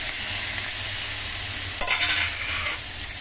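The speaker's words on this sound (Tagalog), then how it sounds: "pagigisa na tayo ng onion saka sibuyas. Saka ilagay na natin si kamatis." Onion and tomato sauté in a hot pan, a steady bright sizzle with stirring scrapes and a brief louder burst partway through, with no talking.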